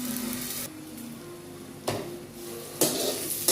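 Potatoes sizzling as they fry in a pan, a steady hiss broken by a few louder bursts of spattering and stirring clatter, close and alone without talk.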